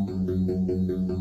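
A tweaked U-Synth synth preset run through a Phase Mistress phaser plays a short pulsing tone that repeats about five times in quick succession, its sweep giving each pulse a slight wobble.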